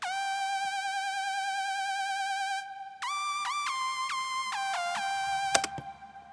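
Synth lead melody from a Massive patch, bright and buzzy with gliding pitch bends, holding one long note before jumping into a quick run of shifting notes.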